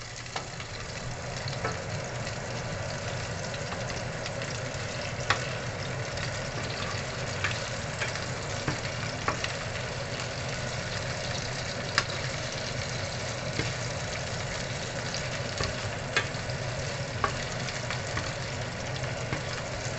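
Beef steak frying in avocado oil in a pan, a steady dense sizzle with occasional sharp spatter pops, close and constant throughout.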